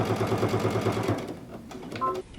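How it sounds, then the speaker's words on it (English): A sewing machine stitches fabric pieces together in a fast, even mechanical run of needle strokes, close and clear, then stops and leaves faint handling noises. "we're just going to stitch this down the side so it becomes all one piece"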